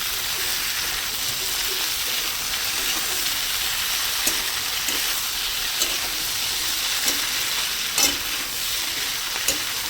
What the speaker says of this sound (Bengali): আমি এগুলো ভাজ কষাচ্ছি আর কত সুন্দর একটা গন্ধ আসছে